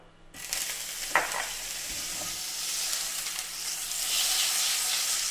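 A knob of butter hits olive oil already hot in a pan and starts a sudden, steady sizzle that grows louder and stays close, with a few small knocks near the start and no talking.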